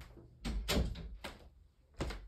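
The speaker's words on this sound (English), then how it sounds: "I'm just gonna close the door." A household door is pushed shut, with a few close thumps and knocks as it swings and latches, fairly faint and with no talking.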